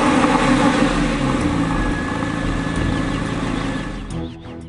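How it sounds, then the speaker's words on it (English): A 2004 Porsche 911 4S (996) with a 3.6-liter, 320-horsepower flat-six runs loud and close in a low, steady rumble that eases slightly toward the end, with no talking. "when you want to revel in the sounds that only a Porsche can make, then you can open your 911 right back up."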